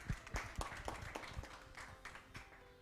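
A small meetup audience claps in a short, scattered burst, with uneven hand claps carrying at moderate loudness through a room.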